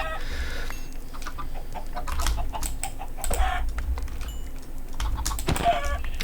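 Minecraft chickens cluck faintly in the game amid constant keyboard and mouse clatter and a low background hum, with a few brief bird-like calls.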